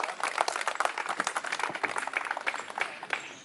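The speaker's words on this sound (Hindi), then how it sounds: "तालियों से एक बार दिलीप भाई का सपोर्ट करें, जरा जोर से ताली बजाकर" Dense applause from an audience gathered for a speaker at JNU, many hands clapping in a quick, even patter that holds steady for a few seconds.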